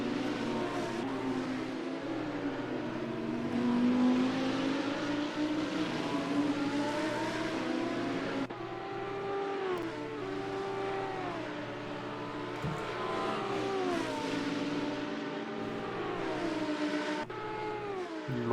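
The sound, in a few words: race cars at Road Atlanta in a racing video game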